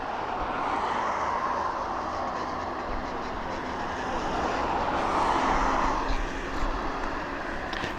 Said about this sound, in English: Come on, TUI, hurry up and take off